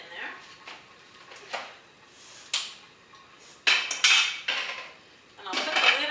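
Broccoli stems are dumped into a pot of salted water on the stove, producing a run of sharp clattering knocks and metallic clinks in irregular bursts, close and fairly loud.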